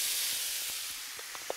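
Ratatouille vegetables tipped into a still-hot frying pan without oil, giving a loud continuous hiss that slowly eases, with a few small clinks and pops near the end.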